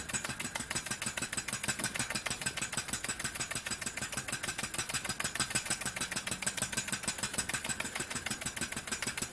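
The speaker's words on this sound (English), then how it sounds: "That is a really great little generator." A small model steam engine driving a generator chugs in a fast, steady rhythmic pulse, mechanical and continuous, moderately quiet throughout with no voices.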